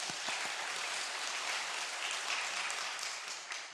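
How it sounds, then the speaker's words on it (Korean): A church congregation bursts into steady applause during a sermon, dense clapping from many people heard at moderate distance, tapering slightly at the end with no voices over it. "이럴 때 박수 한번 쳐야 됩니다."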